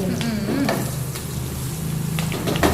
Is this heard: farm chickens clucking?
no